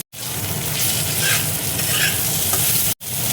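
Onion, cashews and coriander leaves fry in a pan for an egg curry masala, giving a loud, steady, close sizzle with stirring throughout. It cuts out briefly near the end.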